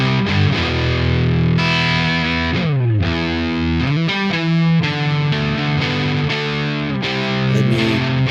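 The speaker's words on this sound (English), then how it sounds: "I have this Marshall emulation, and without the distortion it sounds like this." An electric guitar played through a clean Marshall amp emulation plugin with no distortion, with chords and single notes ringing out continuously at a steady, fairly loud level.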